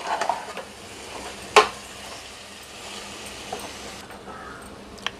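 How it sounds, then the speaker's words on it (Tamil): Chicken is stirred with yogurt in a pan for chicken biryani, faint soft scraping and a low sizzle with a sharp utensil clink near the middle and another at the end; no talk. "நல்லா தயிர் சேர்த்து இந்த மாதிரி நல்லா கிண்டி விட்டுக்கலாம்."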